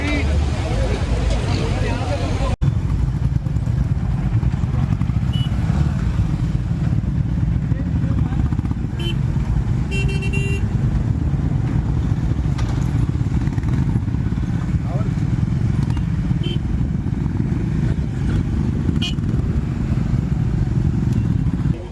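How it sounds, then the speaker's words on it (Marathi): Trial-section motorcycles move off together at a Honda adventure camp, a dense continuous engine drone and rumble of several bikes with clattering, and people talking through it. "इथे आता ट्रायल सेक्शनच्या बाईक निघत आहेत"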